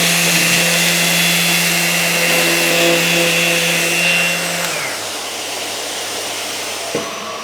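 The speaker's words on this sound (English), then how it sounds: "the mains powered RTS 400 is going to be equally as good at doing this task" A Festool RTS 400 mains-powered orbital sander runs loud and steady with a constant hum and broadband hiss. Its motor tone drops partway through as it winds down, and a single small knock follows, with no one speaking.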